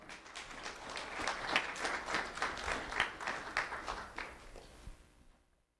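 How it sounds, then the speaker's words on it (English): A small audience at a sheriff's office student recognition event claps for a fourth-grade girl, a modest, fairly close patter of hands with a loose rhythmic pulse that swells and then tapers off to silence. "Round of applause for Maria."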